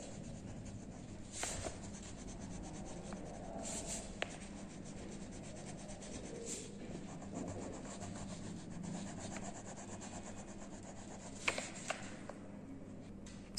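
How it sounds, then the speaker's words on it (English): A blue wax crayon rubbing steadily across paper to fill in a drawn tunic, a soft continuous scratchy scribble with a few sharper taps, heard close and alone. "Now I am using this blue crayon for covering the lower part, means this tunic."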